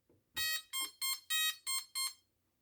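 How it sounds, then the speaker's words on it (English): A 1979 Regency Power Pigskin handheld electronic football game sounds six loud, evenly spaced electronic beeps on power-up, each a bright harmonic-rich tone, heard alone after a brief click. "a couple beeps, I guess, when I turn it on"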